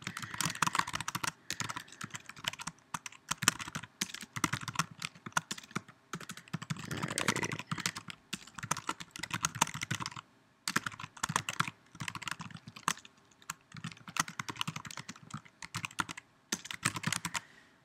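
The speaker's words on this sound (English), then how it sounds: "Let me just type this." Rapid clicking keystrokes on a computer keyboard while typing code, close and fairly quiet, coming in irregular bursts with short pauses and no talking.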